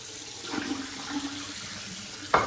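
Water runs from a tap into a sink while a face is washed after a shave, giving a steady, fairly faint rush with light splashes and a sharper splash at the end.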